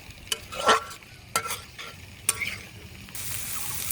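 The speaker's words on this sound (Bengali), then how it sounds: "আলু টমেটোটাকে মশলার মধ্যে কিছুক্ষণ কষিয়ে নিব" Boiled potatoes and tomatoes frying in spice paste for a boal fish curry, soft sizzling broken by several sharp spatula scrapes against the pan, ending in a louder, brighter hiss, no speech.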